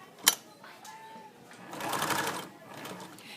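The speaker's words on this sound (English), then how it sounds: "I want you to sew right on top of the stitches you started" A sewing machine stitching over existing stitches on fabric, a short sharp click followed by a brief run of whirring stitches, faint and close, with a voice talking alongside.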